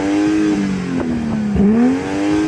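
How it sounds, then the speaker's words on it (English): A BMW M240i in sports mode revs repeatedly while stationary, its engine pitch rising and falling in two or three loud, close sweeps with crackles between the bursts. "Let's rev it up."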